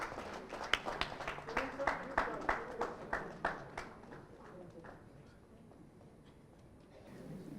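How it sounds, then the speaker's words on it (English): Applause from a conference audience at the LAMBCON 2024 inauguration honoring Dr. Arun Singh: several seconds of scattered, moderately loud claps that thin out and fade, with faint background voices. "Please give Dr. Arun Singh a big round of applause."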